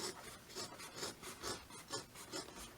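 Scissors cut through fabric along the side edges of a sewn bag, a soft rhythmic rasping snip repeated about every half second, quiet and close.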